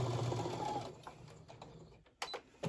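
Sewing machine stitching a quarter-inch quilt seam, a fast steady whirring hum up close that stops partway through, followed by a few faint clicks and handling sounds.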